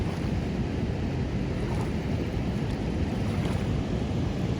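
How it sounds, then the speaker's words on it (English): Kanawha Falls on the West Virginia Waterfalls Trail, a broad, steady roar of falling water mixed with wind buffeting, constant and unbroken with no voices. "Beautiful falls."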